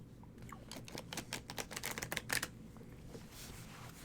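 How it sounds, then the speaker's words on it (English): Tarot cards shuffled by hand close by, a run of quick papery riffles and soft patters in the middle of the clip with no talking over them. "So I'm shuffling the cards and thinking about it."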